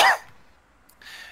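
A voice imitating a man coughing: one short, harsh cough burst at the start, a pause, then a quieter raspy follow-up.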